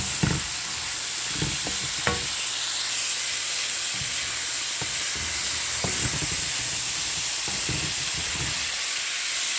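French green beans sautéing in a pan, a steady bright sizzle and hiss throughout, broken by scattered scrapes and clacks of stirring, close and fairly loud, with no voices.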